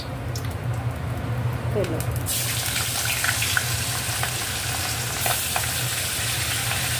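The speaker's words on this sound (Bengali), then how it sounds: "এবার মাছটা ভেজে নেবে।" Turmeric- and salt-rubbed fish frying in hot oil in a wok gives a steady close sizzle that swells into a louder, dense crackle after a couple of seconds and carries on evenly, with a faint voice in the background.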